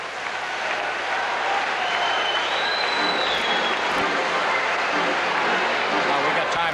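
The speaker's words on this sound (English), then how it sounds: "You know, the crowd senses it, too." Crowd at an NHL hockey game between the Montreal Canadiens and Toronto Maple Leafs roaring and cheering in the arena, a broad sustained wash of noise at a loud level, with commentary voices underneath.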